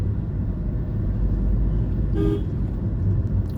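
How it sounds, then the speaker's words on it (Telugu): A car horn gives one short, clear honk over the steady low rumble of the car's engine and road noise, heard from inside the vehicle during a driving lesson. "హారన్"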